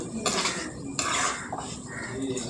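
A spoon scrapes and clinks around a bowl as tamarind is mixed into cucumber chutney ingredients, with a few close, rough stirring strokes and no voices.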